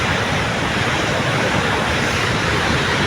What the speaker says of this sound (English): It's beach.